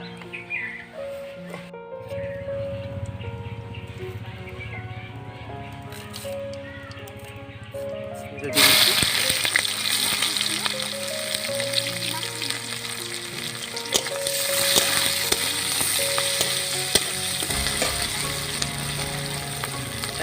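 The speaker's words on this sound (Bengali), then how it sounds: "সাদা জিরে ফোড়ন দিয়ে দিচ্ছি।" Whole white cumin seeds drop into hot oil, and a loud, bright sizzle erupts about halfway through and keeps crackling close up, following a quieter stretch of faint kitchen noise and tones.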